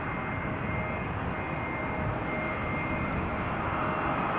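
EasyJet Airbus A320neo arriving at Amsterdam Schiphol from Stansted: a steady, broad jet roar that holds at moderate distance throughout, with no talking.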